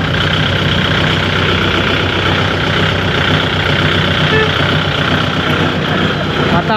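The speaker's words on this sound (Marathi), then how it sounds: "आता आम्ही या ट्रॅक्टरने जाणार आहे भांगडा करायला कुठेतरी सगळे." A tractor engine runs in a Punjab village before a ride out to the fields, giving a loud, steady, close drone that holds unbroken throughout.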